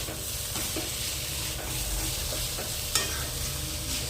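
Prawns and cauliflower sizzling in a pan while being stirred, a constant close frying hiss punctuated by spatula scrapes and a sharp clink at the end.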